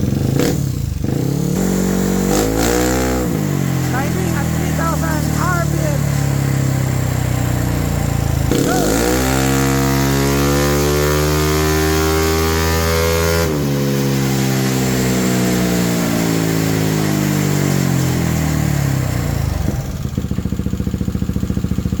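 A motorcycle on a dyno after a pipe change, the engine revving hard in long sweeping pulls that climb and fall, loud and close, with a brief throttle blip at the start and a steady drone between the runs.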